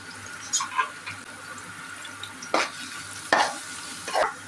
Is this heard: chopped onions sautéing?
yes